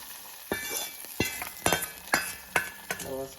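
A tempering of spices dropped into hot oil for tamarind pachi pulusu, giving sizzling bursts with sharp metallic clinks of a ladle against the pan, about six distinct strikes spread through a steady crackle.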